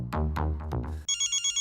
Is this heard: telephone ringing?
yes